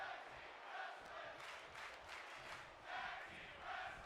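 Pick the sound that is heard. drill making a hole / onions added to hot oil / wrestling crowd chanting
wrestling crowd chanting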